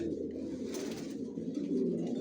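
Sabji racer pigeons, a master breeding pair, cooing in a low, continuous, throaty murmur close by, steady and alone throughout.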